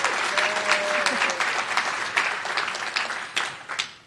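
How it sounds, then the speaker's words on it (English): Steady applause from a crowd at a medical school white coat ceremony fills the whole stretch, with individual claps popping out and a faint voice underneath. "I want you guys to first applaud yourselves."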